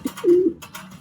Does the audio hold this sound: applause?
no